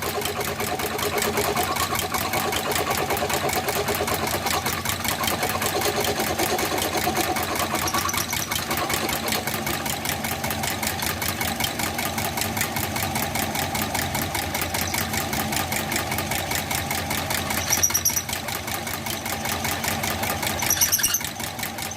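A vintage engine fitted with a hand crank starter runs half firing, giving a steady, fast mechanical chugging with a rapid even pulse that holds for the full stretch, loud and close, with a few sharper metallic ticks near the end.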